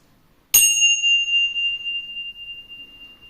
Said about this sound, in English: you're going to just hear 3 chimes